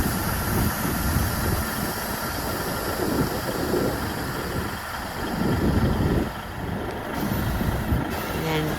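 A Volvo FH540 truck idles with a steady diesel rumble while its air suspension lifts from the lowered ferry mode, with faint hissing and intermittent bursts of engine noise at close range.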